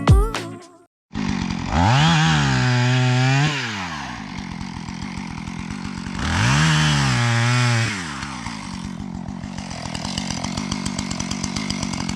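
A chainsaw roars to life, revving up and down in two long, loud bursts before settling into a steady idle.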